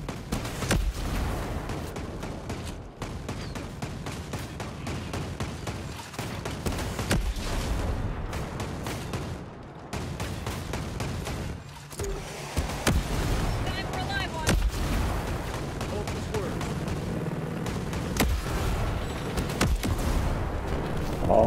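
Rockets fire and explode in the video game Ghost Recon Breakpoint as a dense, continuous barrage of booms and gunfire, loud and sustained throughout with little pause.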